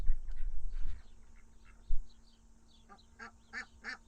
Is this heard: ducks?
yes